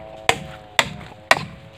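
Three evenly spaced hammer blows drive nails into wood while a hut is being built outdoors, each strike a sharp, close, ringing whack that quickly dies away.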